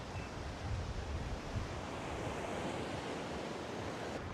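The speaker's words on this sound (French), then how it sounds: "Comme cette plage d'Arambol." Ocean waves wash in on Arambol beach in India, a continuous broad roar of surf mixed with wind buffeting the microphone, with no voices.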